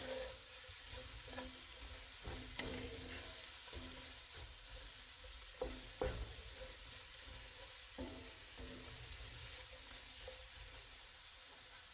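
Thinly sliced yellow onions sizzle steadily in melted butter in a pan, a soft continuous fry broken by occasional scraping clicks of stirring, close and fairly quiet.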